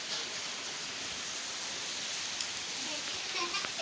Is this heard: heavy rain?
yes